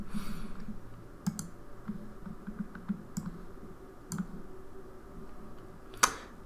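Typing an Excel formula on a computer keyboard: scattered light key clicks in short bursts, close and fairly quiet, with one sharper tap near the end.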